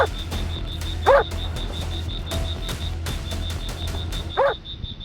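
A dog barks a few times at a distance, short sharp yaps spaced apart over a faint steady background tone.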